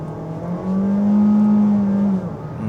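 Kia Seltos 1.6 gasoline AWD accelerates uphill on a snowy mountain road, its engine note rising into a steady droning hum heard from inside the cabin, then easing off, with no talk.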